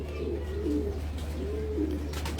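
Low, soft pigeon coos repeat twice over a steady background hum, fairly close and gentle, with no talking.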